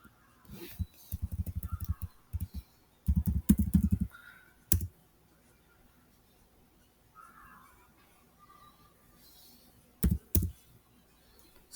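Bursts of clicky key presses on a computer keyboard as a password is typed, several short runs separated by pauses, fairly close and moderately loud with no talk over them.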